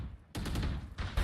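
Gunfire in a competitive Valorant match, a burst of rapid shots that starts abruptly after a brief quiet moment and stays loud and dense.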